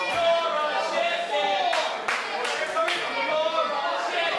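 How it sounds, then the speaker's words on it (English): A wrestling crowd at a small indoor show chants in rhythmic unison, with claps mixed in and a few sharp slaps, while a commentator talks over it. "And listen to this crowd chant,"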